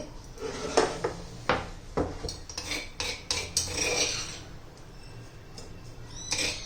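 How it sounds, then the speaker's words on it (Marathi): Close kitchen clinks and scrapes: a spoon tapping and scraping against a bowl several times as crushed garlic chutney is spooned in, irregular, with soft shuffling between. "आता काढून घेऊ आपण एका भांड्यामध्ये"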